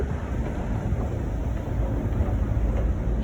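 Low, steady rumble of a Warsaw metro train, a continuous deep roar with a faint hiss on top, close and constant throughout with no voices.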